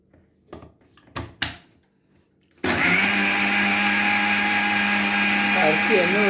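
Soaked rice being ground in a grinder: a few thuds and clatters of handling at first, then the motor starts abruptly into a loud, steady whirring hum with a grinding rasp that continues to the end.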